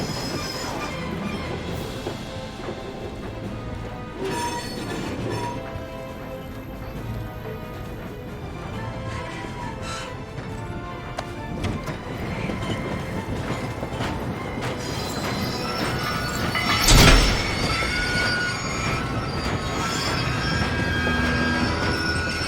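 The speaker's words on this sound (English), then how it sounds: "I'll go and separate us from the train. You hit the brakes to slow us down." Train braking in Medal of Honor VR, a continuous rumbling rail roar with clattering wheels, building to a sharp, loud metallic wheel squeal near the end before the rumble carries on.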